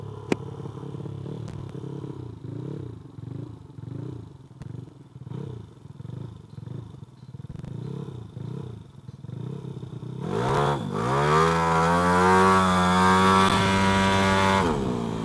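A racing-tuned Vespa Sprint scooter engine idles in a steady, pulsing putter, then suddenly revs hard into a loud, rising, sustained whine; no talking.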